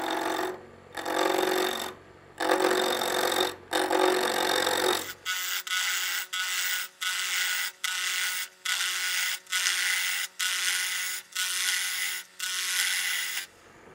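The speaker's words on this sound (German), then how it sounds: "Ich beginne immer mit dem Drechseln dort, wo am meisten weg muss." Wood turning on a lathe while shaping a wooden spatula, with rhythmic bursts of the tool biting the spinning board: long rough scrapes at first, then quicker regular cuts separated by short gaps.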